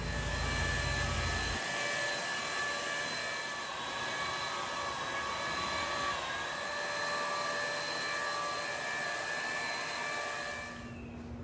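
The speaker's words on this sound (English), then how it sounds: "We'll use the sander for the top spots" Power sander working dried filler with 220-grit paper on a wooden storage stool, a steady whirring drone held at constant level for the whole stretch before easing off at the very end.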